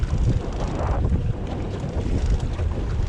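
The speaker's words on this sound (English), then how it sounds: "It's really windy. I mean really windy." Strong wind buffets the microphone continuously at low tide near channel marker pylons, a loud, rough rumble with no pauses.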